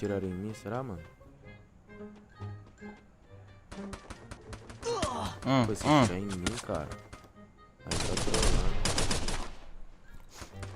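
Sharp pistol gunshots from the video game Free Fire, fired in bursts with a loud rapid cluster near the end, under steady talking.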